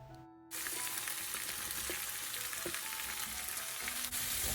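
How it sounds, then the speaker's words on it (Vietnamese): Mushrooms tipped into a hot pan with seasoning set off a sudden loud, steady sizzle after a brief quiet start, with a few soft scrapes of stirring and no talking. "mình bắt đầu mình đổ nấm vô"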